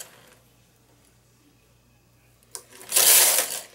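On a home knitting machine, needles are pushed by hand back into work position. After a near-silent stretch comes a short burst of close, bright metallic scraping and clattering.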